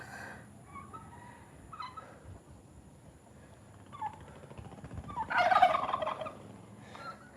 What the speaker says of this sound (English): Oh, we got a turkey too.